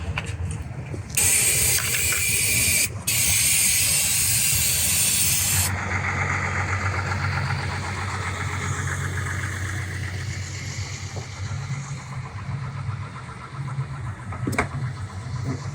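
A 1000-horsepower car engine cranks and fires with a loud, hissing burst, then settles into a steady low idle that carries on evenly to the end; no talking.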